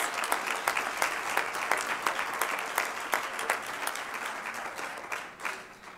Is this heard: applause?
yes